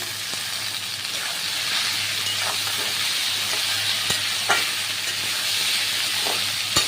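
Boiled taro flowers sizzle in a pan with onion and garlic, a steady close frying hiss broken by a few sharp clicks from stirring.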